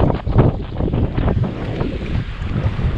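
Loud gusting wind buffeting the microphone over rough, sloshing Atlantic Ocean water during a rowing crossing, with no voices.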